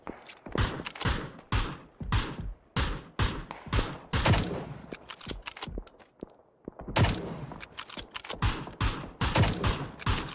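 Rapid bursts of gunfire ring out in a PUBG match on the Erangel map, dense volleys of loud shots in quick succession with brief pauses, close and dominant with no talk.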